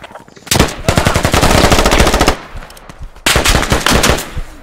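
Rapid automatic gunfire in the tactical shooter game Squad: two loud, dense bursts of fast shots, one long and one shorter, separated by a brief lull, with no talking.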